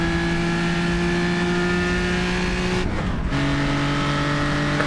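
A race car in the Isle of Man historic road race roars at full throttle as it accelerates onto the front straight, its engine note droning steadily and loudly, briefly dipping as it shifts gear before pulling hard again.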